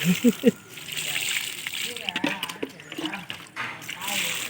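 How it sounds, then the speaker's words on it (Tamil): Water being poured onto a young guava plant, a soft sloshing and splashing that runs on under a person talking. "இப்போ நம்ம நிறைய தண்ணி ஊற்றணும்"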